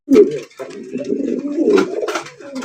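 Domestic village pigeons kept for sale coo up close in loud, rolling throaty bursts, with a brief pause and a few fainter calls near the end.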